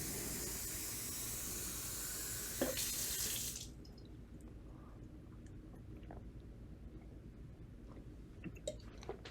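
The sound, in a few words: getting a drink of water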